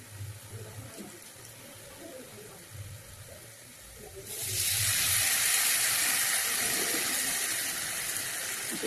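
Tamarind water is poured into a cooking pot while preparing rasam and fish curry, beginning as faint trickling and swelling after a few seconds into a steady, close, continuous rush that runs to the end.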